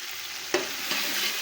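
Chickpeas and potatoes tipped into a hot frying pan, giving a soft continuous sizzle with two quick stirring scrapes, the first a sharp clack near the middle and a lighter one shortly after.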